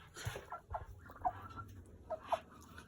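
Chickens cluck softly in short bursts, a few close calls over low background noise and faint movement.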